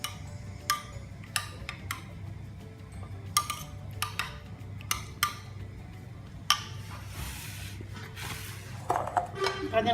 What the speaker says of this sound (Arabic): نخلطوها مزيان.